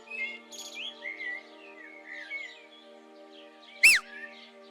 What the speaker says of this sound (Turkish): Sadece kuşlar değil, kuşların orkestrasına biz de katılalım